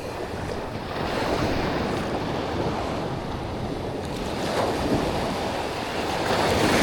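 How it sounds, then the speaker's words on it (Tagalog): Strong sea waves surge and break along a shore, forming a continuous loud roar mixed with gusting wind buffeting the microphone, with no voices. "Parang ayoko lumusong kasi lakas ng alon"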